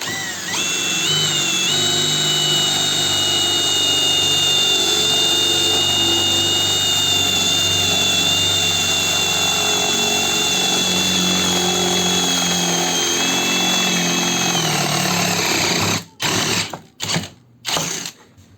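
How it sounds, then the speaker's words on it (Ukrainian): A Ronix 8900K brushless impact drill in drill mode, second gear, drives a 10 mm bit through a metal profile pipe: a loud, steady high motor whine for about fifteen seconds, then several short bursts as it stops and restarts. "Розпочнемо сверла десятки, вмикаємо режим сверління, також найбільше зусилля і включаємо другу передачу"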